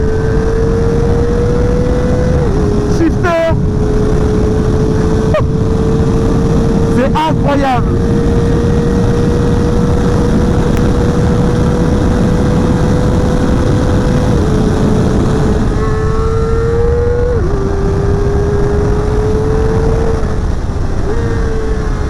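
Steady high-pitched drone of a Kawasaki ZX-4RR engine held at high revs while riding, with small pitch steps and a few clicks, heard close over constant wind noise.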